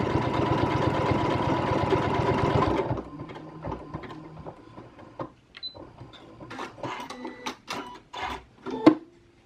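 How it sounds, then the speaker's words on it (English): A sewing machine runs steadily for about three seconds while stitching an eyelet on a lacing strip, then gives way to soft clicks and handling taps. "I'm going to go ahead and run one through so you can see"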